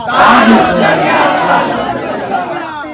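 A large crowd at an Eid Milad un Nabi religious gathering in Banaras roars a takbir slogan in unison, a loud, dense wall of massed voices that holds for a few seconds and slowly eases.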